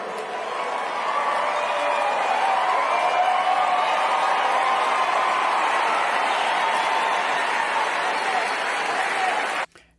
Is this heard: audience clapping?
yes